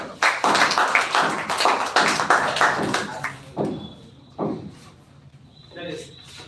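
Audience clapping at a school computer-education speech event, dense and loud for about three seconds, then thinning to a few scattered claps with voices heard over it.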